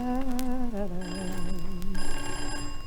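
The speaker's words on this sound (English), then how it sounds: "Oh, there's the phone." A telephone rings as a sound effect in The Clitheroe Kid, an old-time British radio comedy, with a steady bright ringing tone over a wavering, voice-like harmonic sound.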